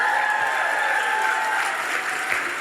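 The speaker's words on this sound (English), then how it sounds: "I love that applause." A large crowd at Crystal Bridges museum applauds a former president's appearance, producing loud, sustained, even clapping that fills the space without pause.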